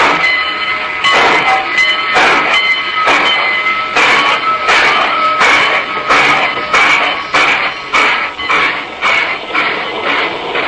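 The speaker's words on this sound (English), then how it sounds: "I were sitting in the observation car of a Great Valley train at Northbridge, Minnesota." A passenger train rolls along at a steady pace as heard from inside the observation car, with loud, rhythmic clickety-clack bursts of the wheels over rail joints repeating roughly every half second over a continuous rumble.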